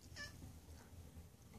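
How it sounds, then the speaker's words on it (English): A pet cat gives a single short meow near the start, fairly close but quiet, over a low steady background hum in an indoor room. "My kitty cat says good morning."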